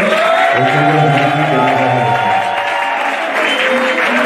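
Sustained applause from an audience standing at an official ceremony in Abidjan, dense and loud throughout, with cheering voices rising in the crowd.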